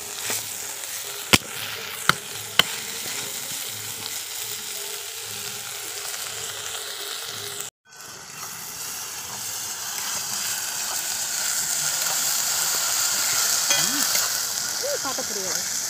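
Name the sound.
onion stalks frying over a wood fire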